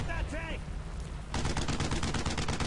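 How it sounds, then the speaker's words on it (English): Gunfire in the World War II video game Brothers in Arms: Road to Hill 30 comes first as a few shots and then as rapid, evenly spaced automatic fire that runs steadily to the end, with whistling and shouting earlier. "Keep firing at him."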